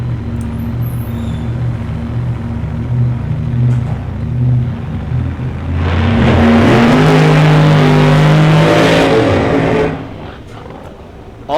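A funny car, the Hombre driven by Mike Buchanan, makes a drag racing run at North Star during the 2019 Entech Oil Championship Finals: a low idle rumble swells into a loud, roaring full-throttle blast for several seconds, then abruptly cuts off.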